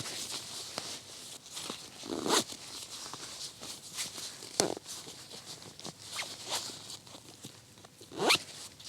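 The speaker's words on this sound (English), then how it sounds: "Zip it up." A backpack's bottom bag pouch is zipped shut on a night hike at Fire Prairie Trail, a series of close, raspy zipper pulls in quick bursts with small rustles in between, no talking.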